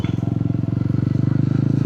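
A Yezdi Roadster 2026 motorcycle engine idles then revs up, a steady rapid thumping exhaust pulse close by and fairly loud, rising slightly in pace with no talk over it.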